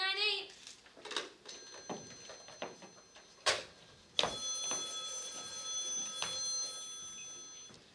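A telephone rings on an outgoing call, repeated bell trills with short gaps, heard faint and alone in a quiet room.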